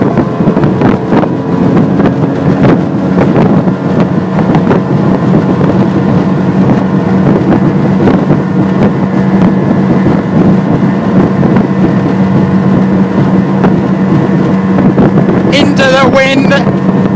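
An Evinrude 115 HO G2 outboard drives a motorboat at high speed into wind and tide, a loud, constant engine drone with heavy wind buffeting the microphone throughout.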